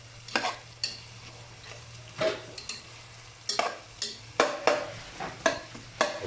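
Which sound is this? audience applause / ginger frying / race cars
ginger frying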